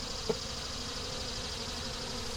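Honey bees from a small swarm, fed pollen year-round, hum in a steady, continuous drone at close range with no voices.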